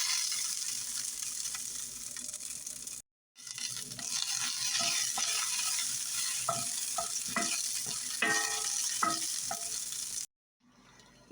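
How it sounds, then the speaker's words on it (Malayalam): Garlic, dried red chillies and curry leaves sizzle and fry in a pan for a Kerala-style brinjal chutney. A steady hiss runs throughout with crackles and stirring scrapes, broken by two short silent gaps. "ഇതോടൊപ്പം തന്നെ 2 വെളുത്തുള്ളിയും കൂടി നമുക്ക് വഴറ്റിയെടുക്കാം."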